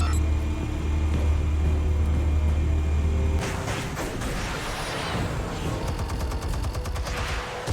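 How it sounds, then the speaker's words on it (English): Fully automatic machine gun fire in a Batman Telltale game scene, a loud sustained burst of rapid shots followed by a rougher, clattering stretch of gunfire and debris. "There's a full automatic machine gun in his office for no reason."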